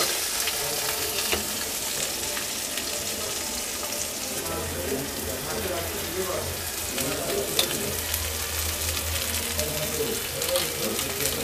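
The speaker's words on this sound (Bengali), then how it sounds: "পেঁয়াজটাকে ভালো করে ভেজে নেব।" Onions frying in a pan for potato paratha filling, a steady soft sizzle with low crackling running throughout, quiet and close.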